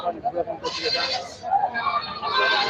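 Native goats bleating at a busy rural goat market, a couple of loud, wavering bleats close by, mixed with background crowd chatter and voices.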